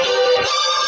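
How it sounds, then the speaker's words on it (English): A steady, bright metallic ringing boxing bell at the Lomachenko–Teofimo Lopez fight, with layered overtones, sustained and loud throughout the short moment. "The bell."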